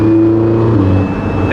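Loud car exhaust right behind the cabin roaring steadily with a deep droning tone, close and dominant for a brief moment, a voice talking over it.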